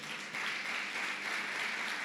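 Applause in a church during an evangelical sermon, a steady, moderately loud wash of clapping from the congregation that holds evenly for about two seconds with no voices over it.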